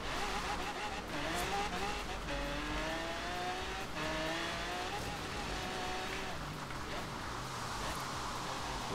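A Ford Mustang GT350 engine drones in a Forza Horizon 3 race, its pitch sweeping up and down through gear changes as the car takes curves at speed, steady and moderately loud with faint tire noise.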